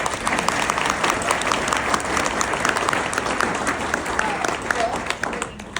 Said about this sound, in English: So a round of applause for Darcy.